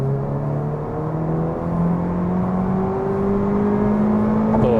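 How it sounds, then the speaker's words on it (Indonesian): A 2023 Honda Civic Type R in comfort mode accelerates hard, its engine note climbing steadily in pitch as the revs build, loud and close with a continuous whirring drone and no talk. "Kalau kita di mode comfort ya, kita akan coba akselerasi sekarang mode comfort"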